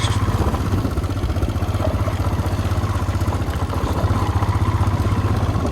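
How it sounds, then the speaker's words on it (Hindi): Royal Enfield Himalayan motorcycle ridden off-road while standing, on a rough mountain track near a river; a steady, close engine drone with low rhythmic pulsing throughout, no talk. "ये ऑफ रोडिंग हो रही है हिमालयन में"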